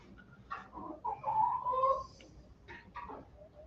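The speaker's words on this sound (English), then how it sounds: "Deadgum chickens." Chickens in a barn give a few faint, scattered clucks and short calls, quiet and close, with gaps of near silence between.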